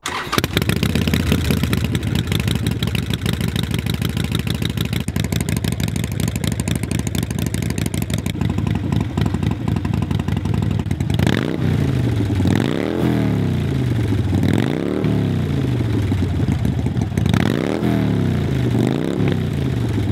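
A custom Harley-Davidson Sportster with a 240 rear tyre and short shots exhaust rumbles loudly up close, first idling with a heavy lumpy beat, then giving several sharp throttle blips that rise and fall.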